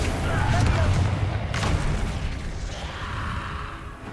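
A deep, rumbling explosive blast from the Confringo spell in the video game Hogwarts Legacy, loud and booming, with crackling debris and a long fading roar and a voice briefly heard over it.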